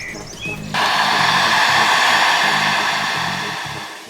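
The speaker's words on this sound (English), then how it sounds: "I decided to use a heat gun to soften the plastic and pretty much mold it into its old shape." A heat gun blows steadily, a loud continuous hiss and whir, as it softens a plastic body part on a crash-damaged Mazda MX-5 NC, with faint low tones underneath.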